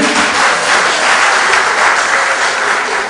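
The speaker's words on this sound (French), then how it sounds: "j'appelle ici Déborah, on l'applaudit, vous voyez." An audience applauds at a film premiere of Les Tresseuses in Chicago, producing dense, steady clapping that holds at an even loudness throughout without a break.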